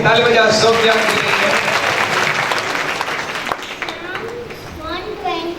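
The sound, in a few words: congregation applauding for Sofia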